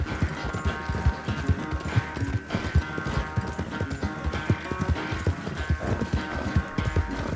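Steady, rhythmic hoofbeats of a horse in the video game Red Dead Redemption 2 clip-clop at a brisk trot over a dense background of music and ambience, with no one speaking.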